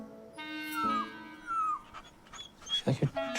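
Dog whimpering and whining in high, wavering cries, with a few short yips and panting sounds near the end, heard close up.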